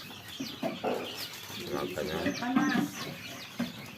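Chickens in a backyard coop clucking in short bursts, fairly close and moderately loud, with a person speaking intermittently among the calls.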